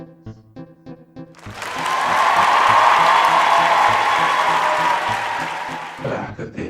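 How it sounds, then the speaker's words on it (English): Applause from a studio audience at a fantasy game show swells for about five seconds, a broad steady wash of clapping and crowd noise between brief musical stings. "Wait for applause."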